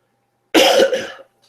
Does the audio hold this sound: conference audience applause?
no